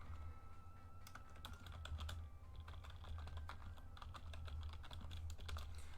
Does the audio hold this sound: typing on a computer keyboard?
yes